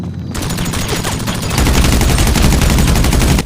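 Rapid automatic gunfire from a video game, a continuous loud barrage of repeated shots that grows heavier and denser partway through, with no talk over it.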